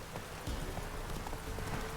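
Geralt's horse Roach runs in The Witcher 3, hooves clip-clopping in a quick rhythm over a steady background wash, growing slightly louder midway.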